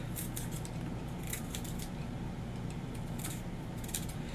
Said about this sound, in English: And then I take a peeler and I just peel this off.